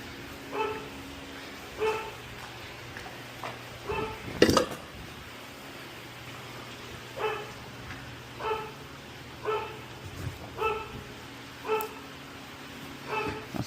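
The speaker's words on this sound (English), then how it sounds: "That's my dog Cosmo" A dog barks repeatedly outdoors at a steady pace from a moderate distance, with one louder, sharper bark partway through, near a driveway repair of a 2007 Honda CR-V.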